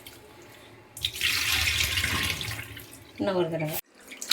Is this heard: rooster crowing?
no